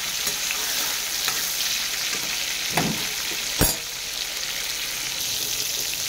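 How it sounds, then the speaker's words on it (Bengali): Pointed gourd (potol) frying with sugar in a hot pan, a steady continuous sizzle with occasional stirring scrapes and one sharp clatter midway. "আবার পটলটাকে ভেজে নেবো, লাল লাল করে ভাজতে থাকবে চিনি দিয়ে।"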